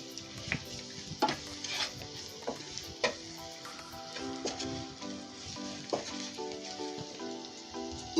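Cumin powder and garam masala being stirred into sizzling rajma curry masala in a pan, with a crackling frying hiss and repeated close scraping strokes of a spoon throughout; no speech.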